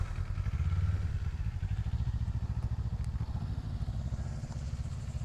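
A motorcycle engine putters at low speed during figure-eight U-turns on a riding school practice area, a steady pulsing low throb with slight rises and dips in throttle, heard at moderate distance.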